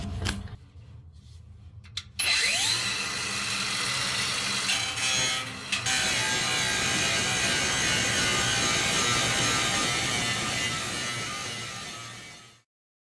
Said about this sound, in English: I'm going to try grinding some on the inside to prepare the surface